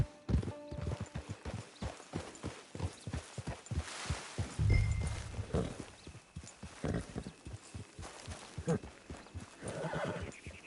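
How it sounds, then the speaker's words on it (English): Hooves clip-clop steadily from a horse in Red Dead Redemption 2, with a whinny partway through and quiet game sounds underneath, fairly close and clear. "Get your horse."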